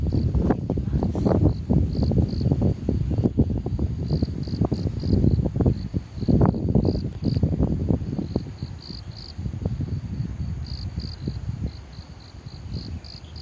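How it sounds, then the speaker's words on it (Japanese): Crickets chirp steadily in freshly mown grass on a morning campus, a faint high repeating trill over a low rumble of wind and distant background noise. "やはりコオロギさんが鳴いてます"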